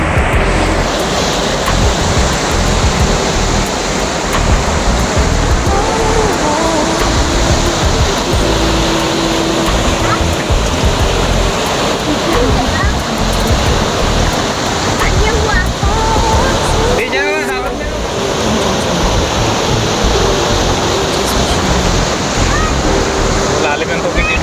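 Water rushes steadily and loudly at a dam where people gather on Sundays, a continuous broadband roar filling the whole stretch, with voices faintly mixed in beneath it.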